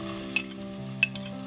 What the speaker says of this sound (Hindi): सो अनियन सौते हो गया हमारा